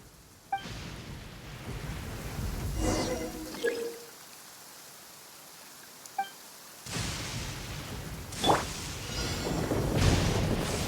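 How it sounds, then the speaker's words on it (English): Video game thunder rolls in two broad rumbling swells with a sharp crack near the start and a louder peak late, a quiet lull in between, all heard without any talk. "Thunder speaks the will of the almighty Shogun."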